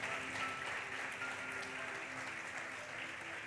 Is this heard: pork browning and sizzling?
no